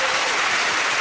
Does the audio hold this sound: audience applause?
yes